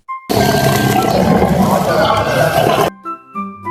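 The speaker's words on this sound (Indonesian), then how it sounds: "Harimau punya belang unik, bisa mengaum begitu keras hingga terdengar dari 3 kilometer" A tiger lets out one long, loud, sustained roar lasting nearly three seconds, close and dominant, followed by a brief low rumble and a short high tone fading out afterward.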